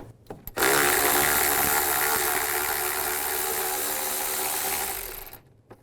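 Removing a 10mm bolt with a socket tool on a 2005-15 Nissan Xterra during thermostat work: a short click, then a loud continuous buzzing rattle lasting about five seconds before it stops.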